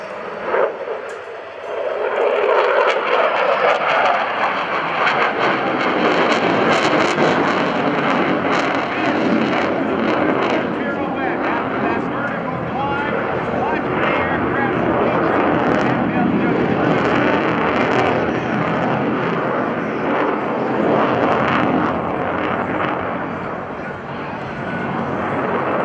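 F/A-18F Super Hornet jet flying a demonstration at the 2012 NAS Oceana airshow, a loud sustained roaring engine rush that swells in and holds for over twenty seconds, with faint announcer talk beneath.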